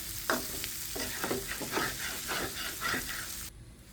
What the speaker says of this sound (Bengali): এখন একটু ভালো করে ভেজে নিচ্ছি।